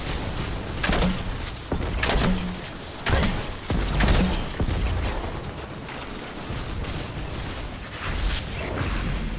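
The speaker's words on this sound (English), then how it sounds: "Yeah, I do have a grenade launcher." Grenade launcher explosions and heavy weapon blasts in the Destiny 2 video game, several loud booming bursts at irregular intervals over a dense background of gameplay noise.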